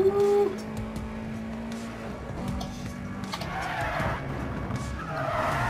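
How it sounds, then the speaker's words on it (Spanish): Car tires skid and squeal in the racing video game Need For Speed World, with the drone of an engine and a few sharp screeches and swells, fairly quiet throughout. "Creo que habrán derrapes también"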